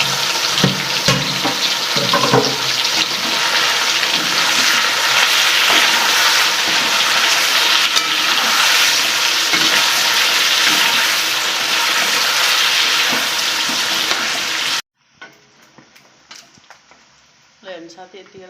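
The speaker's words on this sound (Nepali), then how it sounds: "त्यही भएर यही तेलमा फ्राई गर्दै।" Pieces of fish frying in oil for achar, a loud continuous sizzle and crackle that runs steadily for most of the stretch, then cuts off abruptly, leaving faint clinks and stirring noises.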